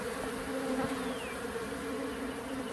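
Honeybees swarm around a Layens hive, giving a steady, dense buzzing hum that stays close and even throughout, with a single bee briefly whining past.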